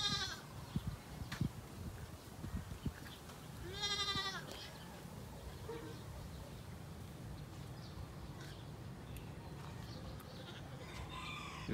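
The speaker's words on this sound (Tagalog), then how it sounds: "ngayon palang lalabas yung dalawang batang kambing" A few thin, high bleats from young goats, one clear wavering call midway, over a quiet farmyard background with a distant rooster.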